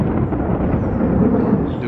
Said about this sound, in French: Il y a de plus en plus de tonnerre.